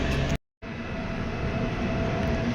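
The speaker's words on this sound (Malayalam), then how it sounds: "ഈ ഒരു സ്റ്റേഷനിൽ നിന്ന് ട്രെയിൻ എടുത്തുട്ടാ" Sarvodaya Superfast Express pulling out of a small station after a signal halt, a steady loud rumble of rolling wheels and carriage noise that drops out briefly near the start, then runs on continuously and close.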